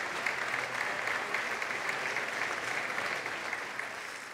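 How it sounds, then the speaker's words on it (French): An audience at a film festival award ceremony claps steadily, a dense, even wash of applause sustained at constant loudness from start to finish, with no talk over it. "On les applaudit."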